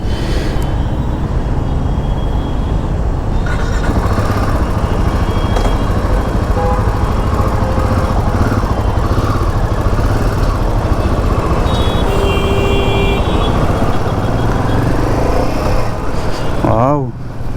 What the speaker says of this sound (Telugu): So first drive on Himalayan 450.